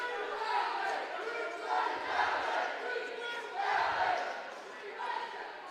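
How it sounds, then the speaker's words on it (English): Student section crowd cheering at a boys' high school basketball game between Tucker County and Mountain Ridge, a steady roar of voices that swells in waves, with announcers talking over it. "A good little student section there cheering."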